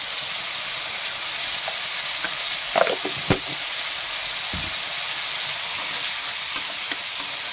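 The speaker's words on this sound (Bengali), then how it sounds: "এবার মশলাটাকে আমি একটু কষিয়ে নেব।" Spice paste (masala) sizzling and frying in a pan while making a potato and drumstick curry, a steady close hiss with a few brief stirring scrapes and clicks, no voices.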